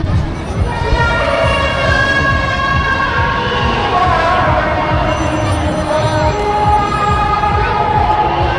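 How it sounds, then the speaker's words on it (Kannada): A large crowd on the Davangere Hindu Maha Ganapathi festival ground on the day before the immersion: a loud, dense hubbub of voices, with sustained tonal sounds layered over it. "ತುಂಬ ಅಂದರೆ ತುಂಬ ಕ್ರೌಡ್ ಇದೆ ಲಾಸ್ಟ್ನೇ ದಿನ ಹಿಂದಿನ ದಿನ ಅಂದ್ಬಿಟ್ಟು ಇವತ್ತೇ ಬರೊಬ್ಬರಿ ಕ್ರೌಡ್ ಇದೆ"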